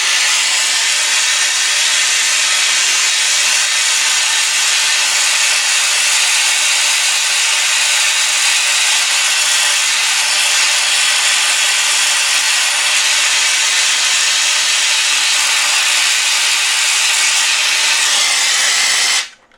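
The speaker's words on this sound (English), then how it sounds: "That's the kind of flame I would melt platinum with." A torch flame roars steadily and loudly against a graphite block, a constant broad hiss running unbroken for about twenty seconds before cutting off abruptly at the end.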